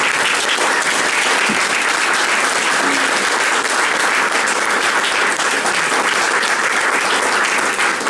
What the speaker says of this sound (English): Round of applause for Jared.